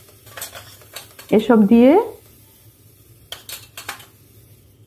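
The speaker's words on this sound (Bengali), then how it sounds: "মটরের সঙ্গে মিশিয়ে ভালো করে একসঙ্গে মিশিয়ে নিলাম" A spoon scrapes and clatters against a pan while ground turmeric, cumin, coriander and chili powder are mixed into peas for ghugni, a few soft clinks spread around a brief spoken phrase in the middle.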